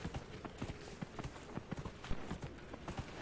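A mount trots along in Dragon Age Inquisition, its hooves striking in a quick, regular clip-clop rhythm that stays close and moderately quiet for the whole stretch.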